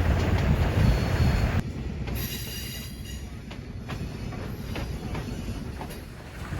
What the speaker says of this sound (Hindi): ट्रेन हमारी अवाम एक्सप्रेस जो 10 डिब्बों पर मुश्तमिल है।